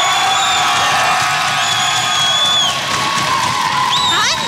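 A studio audience at a Tunisian television game show cheers, whoops and applauds in a loud, steady crowd roar, with bright whistle-like calls rising near the end and no clear speech.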